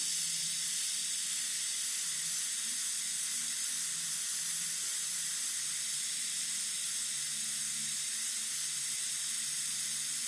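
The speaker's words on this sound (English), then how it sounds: "I'm just kind of fogging some stuff in there" Airbrush fogging candy paint onto ripped-panel flame artwork, a steady unbroken hiss of spray held at an even level throughout, alone without voices.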